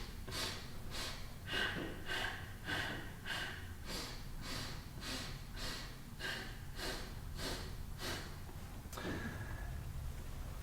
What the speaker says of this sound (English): So from the bottom of the exhale, 4 sniffs. A very subtle pause in between each sniff,